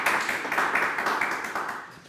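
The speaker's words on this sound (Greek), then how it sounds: "Πάμε επίσης χειροκρότημα." An audience applauds musicians at a Greek televised music show, a steady dense wash of clapping that holds for a couple of seconds and slowly thins out.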